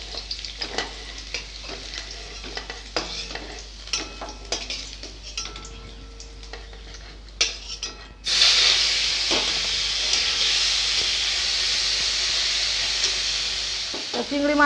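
Prawns drop into hot oil in a home kitchen pan after light clatter, and a loud, hissing sizzle erupts halfway through and carries on steadily to the end.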